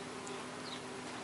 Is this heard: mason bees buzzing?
yes